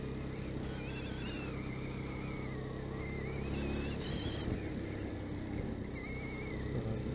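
A Jawa Pérák motorcycle engine drones steadily while being ridden during a Jawa test day in Bratislava. The hum is continuous and fairly even, with no talk.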